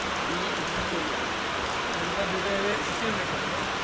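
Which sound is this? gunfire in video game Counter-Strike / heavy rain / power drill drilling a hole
heavy rain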